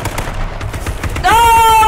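AK rifle gunfire in the H1Z1 video game: a dense rattle of rapid shots for about a second, followed by a loud sustained ringing, high-pitched tone that holds to the end.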